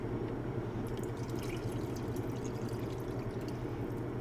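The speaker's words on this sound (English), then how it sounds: "And I'm gonna add some of the water." Water pours steadily into a pot of lentil soup on the stove, a continuous low splashing fill with faint drips, close and even throughout, no talk.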